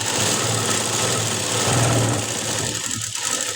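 A sewing machine running a double stitch along a blouse collar whirs steadily and close for a couple of seconds, then slows and trails off near the end.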